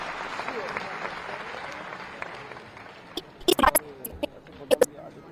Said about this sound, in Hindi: आप सबके तालियों से प्लीज आपका आमंत्रित करता हूं